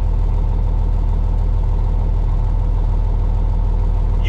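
A truck engine idles smoothly and steadily up close, a constant low rumble with an even rhythmic throb and no talking.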